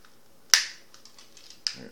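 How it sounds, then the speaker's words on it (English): Two sharp plastic clicks from parts of a TakaraTomy TAV-01 Bumblebee transforming toy snapping into place, a loud crisp snap followed a second later by a softer one. "Clicking into place."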